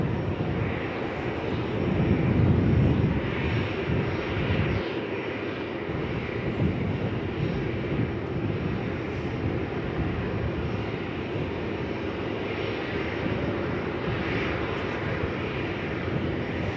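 An airliner touches down at Melbourne Airport at roughly 135 to 140 knots, a broad, steady engine and air roar that holds loud and close throughout, with a brief swell early on and no talking.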